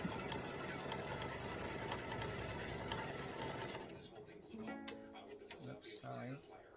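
An embroidery machine stitches the tack-down on an appliqué baseball design, a dense, rapid mechanical chatter running steadily for about four seconds before it stops and a voice talks over quieter handling noise.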